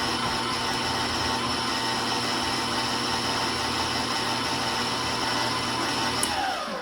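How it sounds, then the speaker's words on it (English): Electric mixer beating Christmas cookie dough for cookie dough truffles, a steady, loud whirring motor hum running continuously throughout, with no talk over it. "My trusty mixer is doing its thing"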